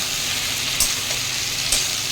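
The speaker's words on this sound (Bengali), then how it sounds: "এখন ভাজবো" Onions and tomatoes fry in a pan with a steady, close sizzle, broken by two brief stirring clatters, with no voices over it.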